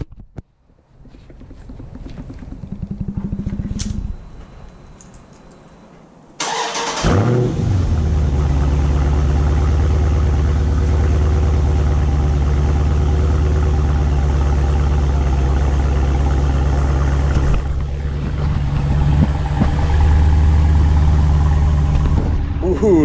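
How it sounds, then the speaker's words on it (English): A Dodge Challenger Scat Pack cold start: a few quiet seconds, then the engine fires with a loud bark and settles into a deep, steady, rumbling high idle nearby. "let's do a cold start"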